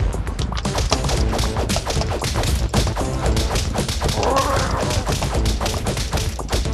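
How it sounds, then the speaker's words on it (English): Rapid, dense thumps and crashing booms from cannons firing in the video game Castle Crashers, loud and continuous with game music and effects layered beneath. "Fire the cannons!"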